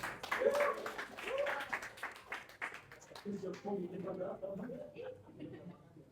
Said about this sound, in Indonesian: Beri tepuk tangan yang meriah untuk Bilal.